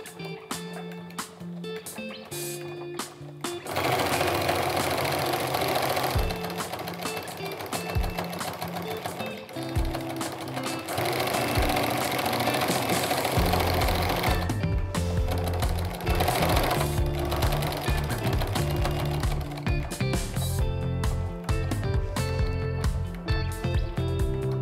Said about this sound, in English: I'm gonna sew a straight stitch right down that line that I drew on both sides